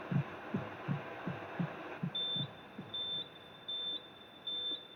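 A resting heartbeat thumps in a steady low rhythm of soft repeated beats, with a high monitor beep starting halfway through and sounding in regular pulses over it.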